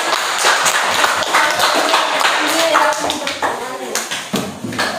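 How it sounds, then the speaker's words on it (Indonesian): A classroom group claps together in a short burst of scattered, uneven claps, with a voice talking over and between them. "Tepuk tangan untuk semua."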